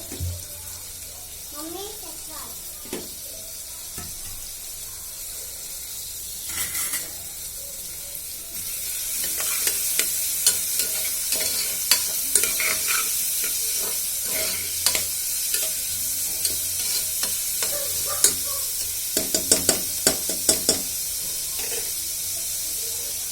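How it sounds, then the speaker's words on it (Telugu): Onions and sweet corn frying in a pan, starting quiet with a few clinks, then building into a steady sizzle with repeated sharp scrapes and taps of a spoon stirring against the pan. "ఇది ఇలా ఒక 2-3 మినిట్స్ ఫ్రై అయిపోతే మనకి చాలా టేస్టీగా ఉంటుంది"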